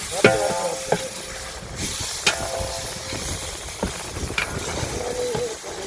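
Onions sizzle steadily in a hot pan while a utensil scrapes and stirs several times, close by, without talking.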